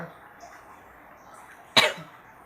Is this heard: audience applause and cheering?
no